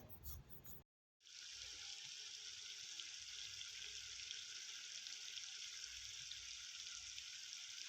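Cream boiling down into desi ghee in a pan on high flame, giving a steady, close, loud bubbling sizzle that runs unbroken after a brief silent gap near the start.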